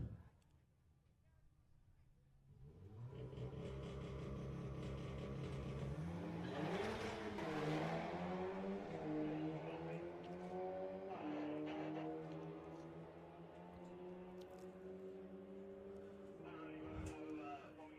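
Road-going Volkswagen cars launch in a drag race at the VWDRC Summer Nationals, engines rising from quiet into a sustained loud roar with climbing revs and gear changes, heard under a commentator talking.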